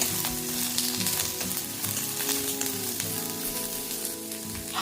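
Onion and green chillies frying in oil for a drumstick-leaf palya, a continuous bright sizzle with scattered stirring clatter against the pan, close by and steady throughout.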